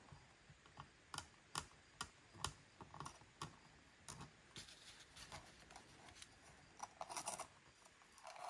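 Scissors snip along an edge in a DIY upcycling project on thrifted home decor items, a steady series of close, crisp cutting clicks that spread out and grow uneven midway, faint with no talk.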